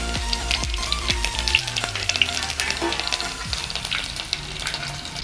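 Chili drops into hot oil and fries with a close, crackling sizzle and sharp spattering pops, steady and fairly quiet throughout with no talk.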